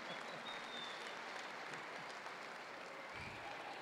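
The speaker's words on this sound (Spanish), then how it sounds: "¿Aplausos?" Steady applause fills the whole stretch as an audience claps at an Alcoholics Anonymous event at Hacienda Nueva Vida in Mexico, a dense, even wash of hand claps with no break.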